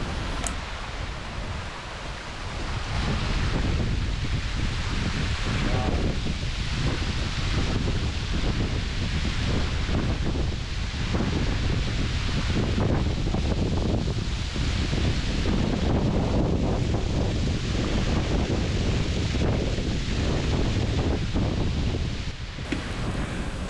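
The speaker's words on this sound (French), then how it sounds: "Il y a du vent, il y a de l'eau, il y a de la brise, il y a tout ici." Wind and flowing water at the source of the Dindefelo waterfall in Senegal, a loud, steady broadband rush with wind buffeting the microphone almost the whole time and no speech.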